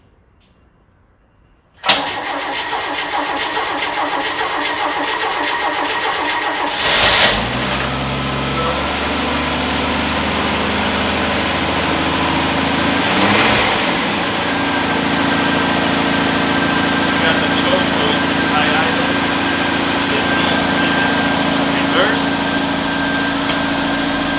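A 1964 Chevrolet Impala cranks and fires after a short silence, stumbles once, then settles into a loud, steady idle that runs on with slight rough surges. Voices are faintly audible over the engine.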